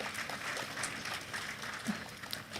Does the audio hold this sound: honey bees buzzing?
no